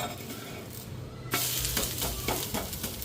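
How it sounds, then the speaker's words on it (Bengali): Food frying in a small amount of oil in a pan, a steady close sizzle that swells into louder crackling bursts partway through, with light stirring scrapes and no talk. "তেল না কম কম দিয়া ভাজতেছি, বেশি তেল দিতাছি না"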